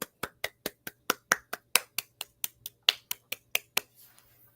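About fifteen sharp hand claps in a steady, fairly quick rhythm, close and distinct, with no talking, then the clapping stops and only faint room noise remains.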